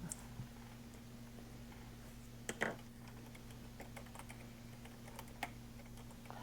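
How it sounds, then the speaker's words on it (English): Soft, uneven keyboard clicks tap away at a quiet level over a low steady hum, with a few slightly louder keystrokes. "I'm typing to someone."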